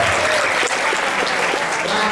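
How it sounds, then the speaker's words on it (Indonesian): An audience applauds a man named Adi at an Indonesian motivational talk, with dense, steady clapping that holds at full strength for about two seconds and has no voices over it. "Ya, tepuk tangan buat Adi"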